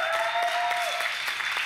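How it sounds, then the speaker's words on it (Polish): An audience applauds ski jumper Adam Małysz at a Red Bull show event, a dense, steady burst of clapping heard close and loud with a tonal hum beneath. "Wielkie brawa dla Adama Małysza"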